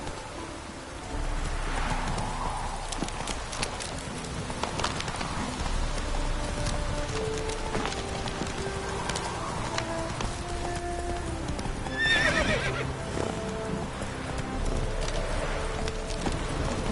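Hooves of Roach, the horse in the video game Witcher 3, clip-clop in a steady galloping rhythm amid rain and ambient game music, with a brief whinny partway through and no talk.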